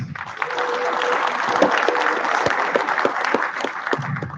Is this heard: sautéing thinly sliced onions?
no